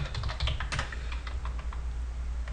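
Fast, steady typing on a computer keyboard, close and clear, with dense clicking keystrokes running through the whole stretch and no talking.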